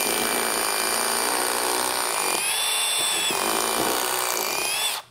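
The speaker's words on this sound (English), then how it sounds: "We're going to drill twice" A power drill whines loudly and steadily as it bores into wood, its motor pitch shifting slightly before cutting off at the end.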